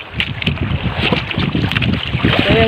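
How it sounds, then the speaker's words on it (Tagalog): Steady gusting wind buffets the microphone over a continuous rush of water and waves at sea in the morning while squid fishing, loud and close, with no voices. "Umaga na ngayon nagkaroon ng hangin at alon."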